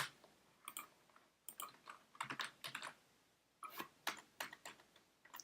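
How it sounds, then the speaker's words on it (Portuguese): Someone typing on a computer keyboard in short irregular bursts of quiet key clicks with pauses between, close and fairly soft. "Se eu começo a digitar"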